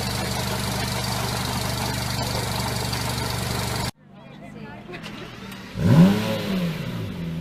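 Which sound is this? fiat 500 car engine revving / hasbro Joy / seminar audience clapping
fiat 500 car engine revving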